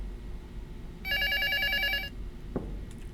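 A telephone rings once in the Prophecy Demo video game, a roughly one-second trilling electronic bell burst, followed by a short knock and low room noise.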